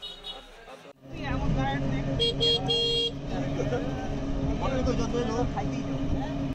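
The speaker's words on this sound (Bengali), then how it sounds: "দুশ্রী বাজার থেকে আমাদের এই অটোতে করে এখন যাব আমতলি ঘাটে।" An auto-rickshaw rides along a road in Bandarban, its engine droning steadily and loudly, with a couple of horn toots early on and voices talking beneath the motor noise.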